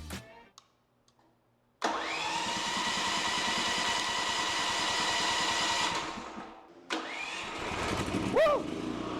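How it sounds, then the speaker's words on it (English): A generator engine cranks and catches, settling into a loud, steady running drone for about four seconds before dipping, then roaring again as a voice cheers over it. "when I hit this, this generator's gonna start"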